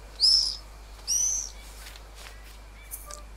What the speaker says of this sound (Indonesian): Oh, ini dia tipe burung yang belum pernah kita foto.